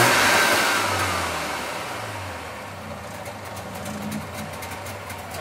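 A fuel-injected Subaru 360 engine runs steadily up close, its loud mid-pitched drone dipping slightly as the idle wavers, with no talk over it.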